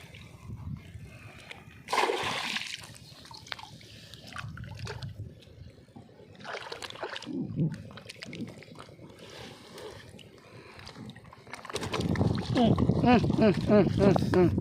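Water splashes and sloshes around a small fishing boat on the Budameru, with brief talking over it and a louder, busier stretch of splashing toward the end.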